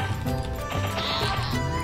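A goat's death cry from the MapleStory game, MapleLand version: a short run of bleating calls over looping game music, loud and close, with no talking.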